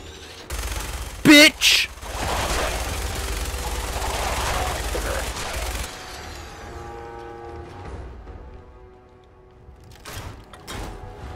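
Minigun fire in Fallout 4, a sustained loud rattling roar of rapid shots lasting several seconds, with sharp bangs near the start and a fading tail.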